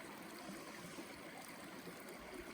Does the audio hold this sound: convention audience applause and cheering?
no